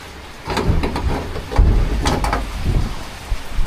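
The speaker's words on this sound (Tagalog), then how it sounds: "Ito na yung bagyong uwan. At speaking of uwan, yan, ulan na, malakas." Heavy typhoon rain pours outside a house in Dinahican, Infanta, Quezon, a steady loud wash with gusty surges and a few sharp knocks or bangs throughout.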